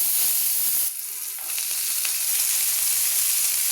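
Dhenki fern greens fry in a pan as part of a Bengali home lunch, giving a steady close sizzle with a brief dip near the start, with no talking.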